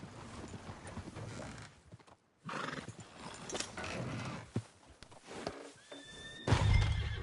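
Horse in Red Dead Redemption 2 whinnying with hoofbeats clopping, moderately near, amid shifting game ambience with a brief drop to silence partway through.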